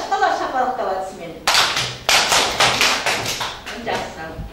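Children in a classroom burst into uneven rounds of clapping, loud and close, after a voice speaks briefly at the start.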